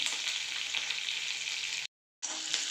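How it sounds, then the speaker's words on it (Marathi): Green chillies frying in hot oil with bloomed cumin, a steady close sizzle with a brief cut to silence before the sizzling resumes. "आता आपण याच्यात मिरच्या टाकून घेऊया"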